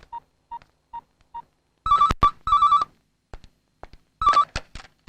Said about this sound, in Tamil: ஒரு தடவை போலீஸ் ஸ்டேஷனுக்கு ஃபோன் பண்ணி அந்த வீரராகவ இருக்கான்ல, அவங்கிட்ட பேசு